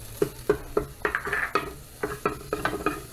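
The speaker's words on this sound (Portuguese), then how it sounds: "Vou colocar aqui uma cabeça de cebola picadinha. Vou misturar e deixar refogar também." Chopped onion stirred and sautéing in a pan for a chicken gizzard recipe, with repeated spoon scrapes and clinks in a steady rhythm over a soft sizzle, close by.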